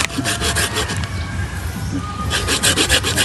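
A hand saw rasps through tamarind wood in steady back-and-forth strokes, close and loud, pausing briefly in the middle before resuming a quicker rhythm.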